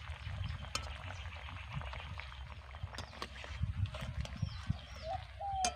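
A thin fish curry with potato and papaya simmers quietly in the pot, giving a faint, steady bubbling and sizzle with small scattered pops close by; no talking.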